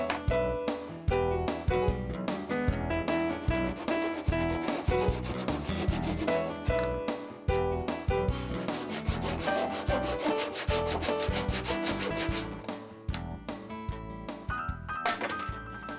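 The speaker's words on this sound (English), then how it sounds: "using my Japanese handsaw, I cut through both the oak strip and the carriage part at the same time." Japanese handsaw cutting through an oak strip and a wooden carriage part together, making continuous fast, rasping strokes, close and steady throughout.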